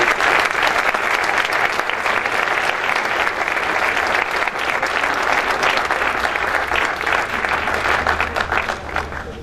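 Strong, steady crowd applause at an environmental cooperation awards ceremony for a second-place water recycling prize, dense clapping throughout that tapers slightly at the close.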